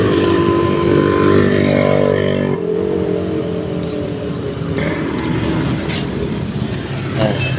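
A Toyota Altis engine cranks and turns over, a loud close mechanical whir that cuts off abruptly partway, followed by rougher clattering engine noise and faint background sounds.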